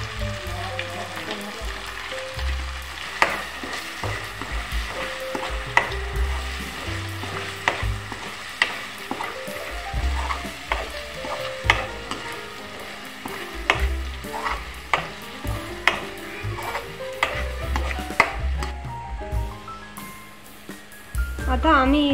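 Masala paste sizzles in a kadhai with browned onions while it is fried and stirred, with steady frying crackle broken by repeated scraping and clinking of the spoon, under intermittent talk.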